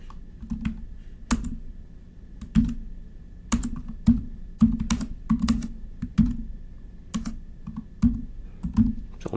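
A computer keyboard is used to type a file name, with steady clusters of close, crisp key clicks and a few louder strokes over a faint background hum.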